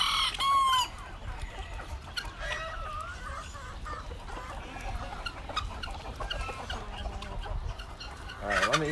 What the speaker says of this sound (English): I am gonna show you guys 3 of our chickens right here in the chicken coop